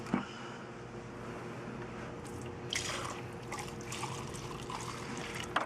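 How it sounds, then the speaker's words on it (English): Grimy water, gray with grease and dirt, trickles and drips into a glass from close by, a thin steady splashing without talk. "Let's see if I can pour it in a glass."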